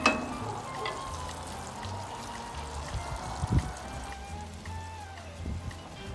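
Onions and cabbage frying in bacon grease on a smoker give a soft, steady crackle and sizzle, with a few brief clanks and stirring sounds over the gentle background hiss.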